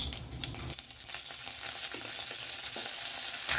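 Curry leaves hitting hot oil for a gram-flour sambar, a bright crackling sizzle that flares loudly at first, settles into a steady hiss with scattered pops, then surges again at the end.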